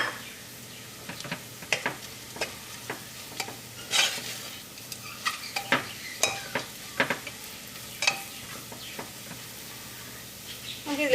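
Coriander and chili powder fry in oil for pressure-cooker chicken biryani, a steady low sizzle broken by frequent scraping and stirring clicks of a spoon against the pot.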